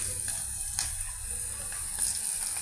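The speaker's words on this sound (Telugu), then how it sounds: "పెద్దలిపాయ పీసెస్ పచ్చిమిర్చి ఈ విధంగా ఆయిల్లో ఫ్రై అవుతున్నాయండి." Onion pieces and green chillies fry in hot oil, giving a steady close sizzle with faint crackles throughout and no talk.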